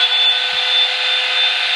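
A Revlon blow dryer brush runs on its cool setting, giving a steady, close airflow whoosh with a faint high whine throughout.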